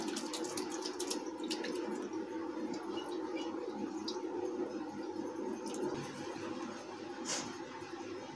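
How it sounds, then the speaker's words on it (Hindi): Water from curdled milk strains through cloth, trickling and splashing steadily into a container, a continuous close pouring sound with faint clinks now and then. "अब मैं इस पतीले को उठाऊँगी और इसमें से इसे अच्छी तरह छान लूंगी पनीर को मैं।"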